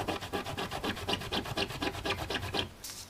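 Hand rubbing across a surface while making transparent embellishments with StazOn inks, a run of about a dozen quick rasping strokes in steady rhythm, close and dry, ending in a brief pause.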